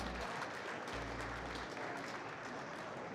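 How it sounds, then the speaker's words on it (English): An audience at the Microsoft Excel World Championship 2024 gives a round of applause after the individual semifinal round, a steady, dense wash of clapping that stays even throughout. "Big round of applause for our individual semifinal round."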